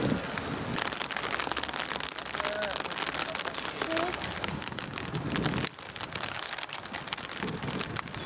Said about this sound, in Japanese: ただ雨が降ってきちゃったんで